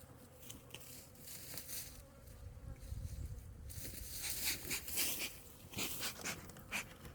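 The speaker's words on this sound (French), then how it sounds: "c'est une colonie hybridée sur la base de tendance abeille noire plutôt, donc avec rémérage naturel" A hybrid honey bee colony with black bee traits drones and buzzes while its hive is opened for a winter inspection, a faint steady hum with individual bees zipping close by.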